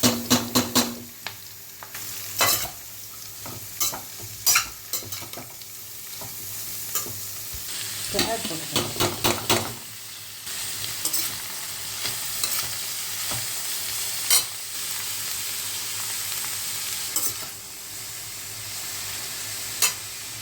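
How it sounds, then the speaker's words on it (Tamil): Cabbage and carrot with onion stir-frying for poriyal, a soft continuous sizzle broken by repeated scraping spatula strokes against the pan at an uneven rhythm, close by, with no speech. "முட்டைக்கோஸும் கேரட்டும் போட்டு அதுக்கு வெங்காயம் போட்டு தாளிச்சிட்டேன் அடுத்த முட்டைக்கோஸ் போட்டுக்கேன்"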